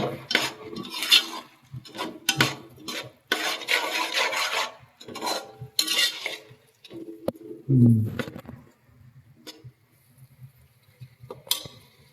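Green peas are stirred and scraped in a metal pan while cooking misal, giving intermittent bursts of spoon-on-pan scraping and clinking with quiet pauses between strokes.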